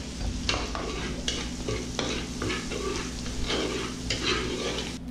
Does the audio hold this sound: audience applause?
no